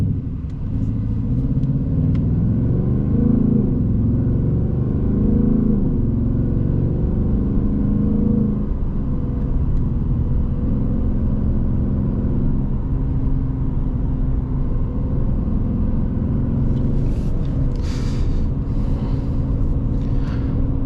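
A 2024 Ford Mustang Dark Horse drives along at steady speed, its engine a continuous low rumble filling the cabin, with slight revving swells and no talk.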